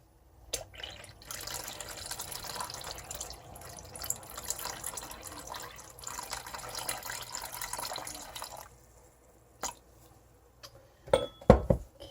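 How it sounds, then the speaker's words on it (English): Water pours into a container in a steady stream for several seconds, followed by a few clinks and taps of dishes. "we're going to add some water"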